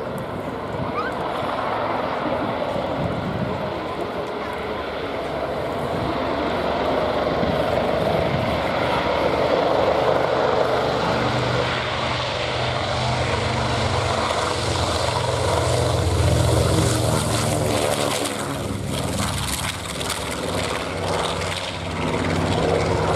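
A Hawker Hurricane propeller fighter flies past at an air show, its engine drone swelling and shifting pitch as it passes, with commentators talking over it.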